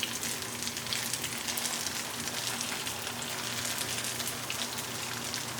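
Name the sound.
vegan meatballs searing in oil in a pan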